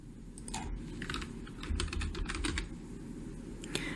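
Typing on a computer keyboard while entering an email account name, a steady run of close, crisp key clicks with short bursts and pauses throughout.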